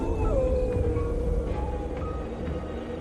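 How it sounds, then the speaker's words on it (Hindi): Dogs howling in a long drawn-out wail over a rumbling wind-like background, one prominent howl rising and falling with fainter cries behind it, eerie and sustained. "कुत्ते रोने लगे।"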